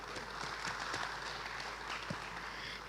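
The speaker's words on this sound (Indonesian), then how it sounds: "tepuk tangan boleh" Audience applause at a zapin dance festival, a steady wash of clapping across the crowd with scattered louder claps, moderately loud throughout.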